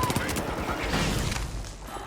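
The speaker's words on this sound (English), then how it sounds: "Shots are going down range." Gunfire rattles through a competitive video game match, dense bursts and rapid shots layered with booms under a commentator's voice.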